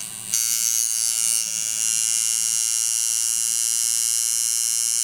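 A tattoo machine running at about 4.8 volts gives a steady, close electric buzz with a high whine that holds evenly for several seconds, with no talking.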